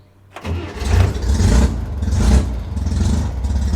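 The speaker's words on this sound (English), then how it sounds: "The solenoid actuated the starter, but seems like it got caught up" On an air-cooled car, the starter is engaged by the solenoid but catches without properly cranking, giving a loud, close, churning mechanical rumble that lasts about three seconds after a sudden start.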